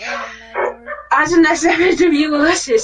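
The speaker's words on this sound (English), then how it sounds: "That's my dog." A pet dog barks and whimpers indoors in short yips that give way to louder bow-wow barks, nearby and under a woman's ongoing chatter.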